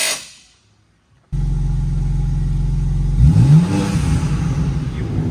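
A tuned 2024 BMW M2 engine, modified toward 750 hp, revs hard after a brief silence, holding a loud steady drone before climbing sharply with turbo whoosh and whistle near the end.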